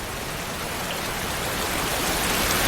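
Steady rain pours in an anime scene, a dense, even hiss of falling water that swells slightly louder toward the end, with no voices.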